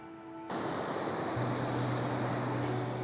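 The Middle Raccoon River in rural Iowa, its flowing water making a dense, steady rushing wash. The sound swells in abruptly after a brief quieter start and holds loud and even, with a faint low hum beneath.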